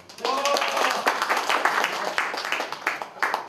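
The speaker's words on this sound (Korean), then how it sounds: "큰 박수를 치셔도 되겠습니다." An audience claps in a rooftop meeting room at a labor union political gathering, a dense burst of applause at close range that rises quickly and holds, with a voice speaking over it.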